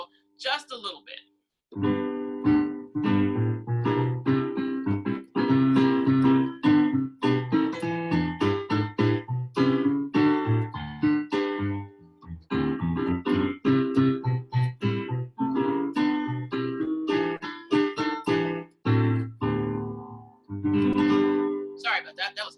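Gospel groove on keyboard with a walking bass line at a slightly pushed tempo, a steady run of full chords and moving low notes played close and continuously with brief pauses.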